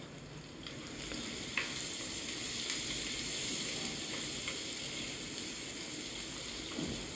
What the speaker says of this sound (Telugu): ఉల్లిపాయ వేగే వరకు కూడా లో ఫ్లేమ్లో పెట్టుకొని వేయించుకుంటే మాడిపోకుండా ఉంటుంది.